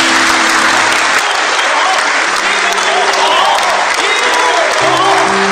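Mourners clap at Chang Baohua's funeral farewell ceremony at Babaoshan in Beijing: dense, loud, sustained applause from a crowd that runs throughout, with faint voices and a tonal hum beneath it.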